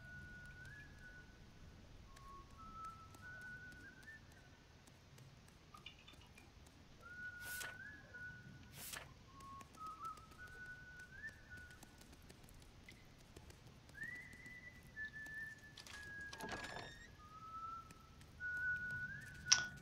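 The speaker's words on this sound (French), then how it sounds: "Je sais qu'on entend siffler ici." Whistling in the video game Ghost of a Tale, a faint series of short, melodic whistled phrases repeating over a quiet ambient background, with a few sharp thuds near the end.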